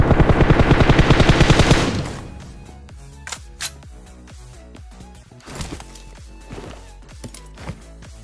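Gunfire in a PUBG-style video game opens with a rapid automatic burst, then gives way to scattered single shots and clicks at lower volume.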